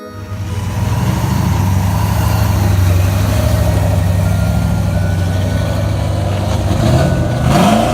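A Dodge Viper's V10 at a car meet holds a loud, steady low rumble for most of the stretch, then rises in a short rev near the end, close by with no talking.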